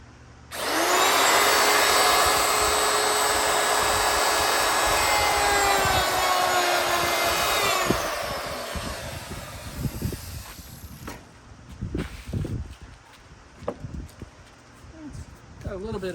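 A router fitted with a regular straight bit planes the surface of a wooden wagon wheel tabletop, giving a loud, steady high whine for about seven seconds before winding down, followed by faint scraping and knocks.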